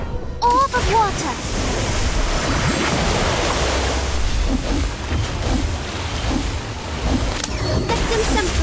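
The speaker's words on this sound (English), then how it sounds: "Orb of Water!" The Orb of Water spell effect in the Harry Potter: Magic Awakened game gives a loud, sustained watery rushing and surging whoosh. Brief game voice sounds come at the start.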